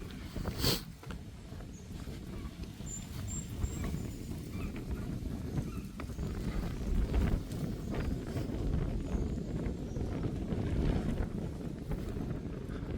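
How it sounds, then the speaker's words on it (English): Steady wind buffets the microphone with a low roaring rumble throughout at a holiday park in Cleethorpes, moderately loud, and there is no speech. "Windy."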